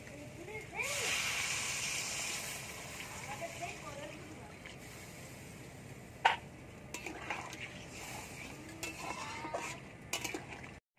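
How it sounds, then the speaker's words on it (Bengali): Water splashes into a pan of frying crab curry with potato and eggplant, setting off a loud hissing burst that fades into softer simmering, then occasional clinks of a spoon scraping and stirring the pan. "কষা হয়ে গেছে, দিয়ে দেব জল।"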